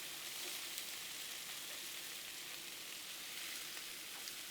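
BBQ shrimp and sausage skewers sizzling on a grill, giving a steady, even hiss that runs without a break, close and fairly quiet, with no voices.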